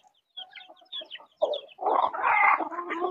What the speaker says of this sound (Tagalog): Ay, matakaw masyado itong itim na manok.